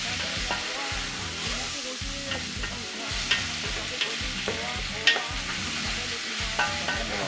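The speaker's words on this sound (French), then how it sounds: "On va bien mélanger le tout." Beef curry with carrots and potatoes stirred in a frying pot, a steady rhythmic scraping and sizzling repeated about every half second, close and continuous with no talking.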